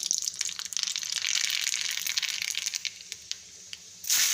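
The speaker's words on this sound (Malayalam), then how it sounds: "ചൂടായ എണ്ണയിലേക്ക് കടുക് ഇട്ട് കൊടുക്കാം" Mustard seeds sputter in about a tablespoon of hot oil as a curry is started, a dense close crackle and spatter that runs on, then eases and flares again at the end, with no voices.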